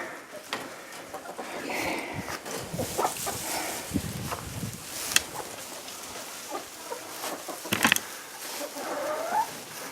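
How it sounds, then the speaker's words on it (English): Little red hen clucking on a homestead in January: scattered soft clucks and short fowl calls, fairly close but quiet, over light rustling and footsteps, with no talk. "Just my little red hen."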